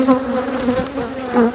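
Honey bees buzz loudly and close at an opened beehive colony during swarm-making on the Mediterranean coast, a dense, steady drone that swells briefly near the end.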